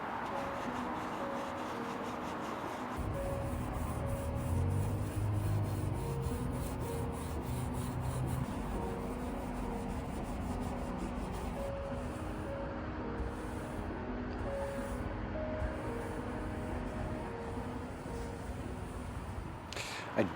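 Fine 0000 steel wool rubbed over a wooden tabletop during a house project, giving a steady, continuous close scraping rasp that runs nearly the whole time with only slight shifts in stroke.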